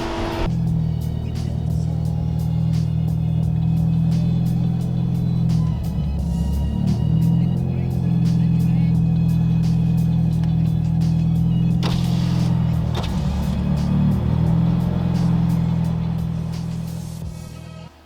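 Heavy machinery pushing a big pile of dirt to fill in a backyard pool, a steady loud low engine rumble that holds for the whole stretch with faint clanks and scrapes, no talking.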